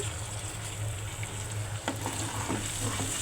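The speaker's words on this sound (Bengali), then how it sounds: "তারপরে একটু ভালোভাবে এগুলোকে হালকা একটু ভেজে নেব" Ginger and garlic paste frying in a pan, a steady close sizzle with soft stirring scrapes, alone with no voices.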